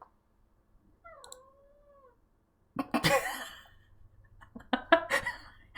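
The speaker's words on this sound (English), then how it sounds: "we've got a cat that decided he wants to come in." A cat asking to come indoors gives a faint, drawn-out meow early on, followed by louder rustling, clicks and knocks nearby.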